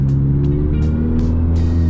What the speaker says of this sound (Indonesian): Kalian udah lihat kan akselerasi dari mobil gua?